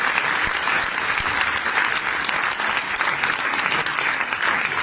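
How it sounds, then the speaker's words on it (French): An audience claps loudly and continuously for a team after a French-language presentation, a dense, steady wash of applause with no break. "Applaudissez-les s'il vous plaît."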